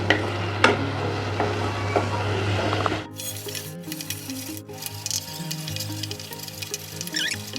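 Palm sugar is stirred constantly in a pan over medium-low heat, giving a soft sizzle and scraping spoon strokes that grow quieter and sparser partway through, with a few sharper clicks.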